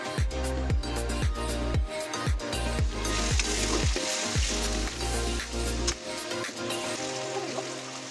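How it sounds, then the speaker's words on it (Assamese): Mutton pieces fry with spices in a cooker pot, a steady close sizzle broken by repeated sharp scraping and stirring strokes throughout, with no talk. "তাৰ পাছত ভালদৰে মাংসখিনি ফ্ৰাই কৰি ল'ব।"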